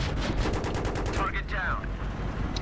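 Rapid gunfire in Battlefield 3 co-op play, a dense run of evenly spaced shots over the first second and a half, then tapering off into softer game noise and a brief whistling sweep.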